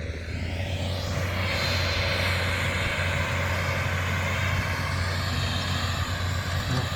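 A tractor pulling a Horsch seeder while sowing corn roars steadily and loudly, driving continuously on GPS autopilot, with a constant low drone and broad rumble throughout.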